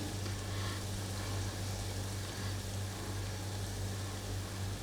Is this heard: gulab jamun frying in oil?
yes